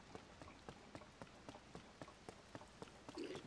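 Rain patters in the video game The Legend of Zelda: Tears of the Kingdom, a soft, steady hiss punctuated by regular light taps, faint and continuous with no voices.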